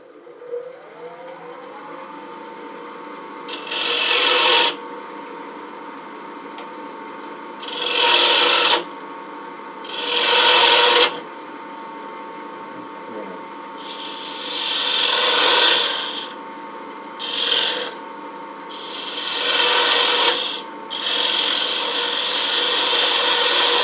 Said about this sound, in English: Come in there with a smaller bowl gouge.